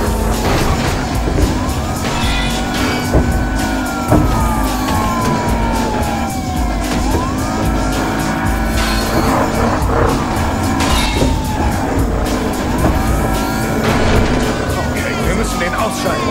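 A car revs and accelerates in the video game Battlefield: Hardline, engine drone loud and steady throughout, with wailing police sirens rising and falling over it and faint voices.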